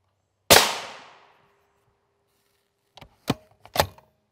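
Rifle shots of M80 ball ammunition striking Level III+ steel body armor: one loud sharp crack with a ringing decay, then a cluster of three quicker, quieter impacts close together.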